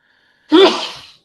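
A single sharp human sneeze bursts out loud and close after near silence, with a quick decaying tail and no talk around it.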